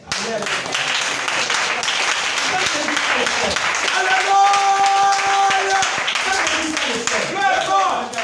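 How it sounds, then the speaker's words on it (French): A church congregation applauds and cheers at a French-speaking worship service, with dense, sustained clapping throughout and a held musical tone rising over the crowd near the middle. "Acclamons pour le ciel."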